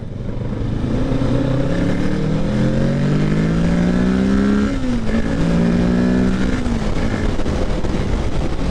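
A 2023 Kawasaki Ninja 650 motorcycle accelerating onto a freeway, its engine note climbing through the gears in rising whines, shifting briefly near the middle, with heavy wind rush throughout, loud and close from the rider's position.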